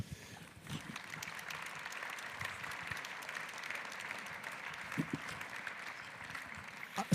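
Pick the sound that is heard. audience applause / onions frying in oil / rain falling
audience applause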